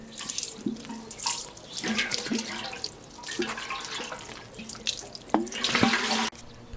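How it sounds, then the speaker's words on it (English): Water pours and splashes in uneven bursts as yarrow plants grown from seed get a good watering before planting out. The sound is close and fairly clear, with small drips between pours. "First give the plants a good watering."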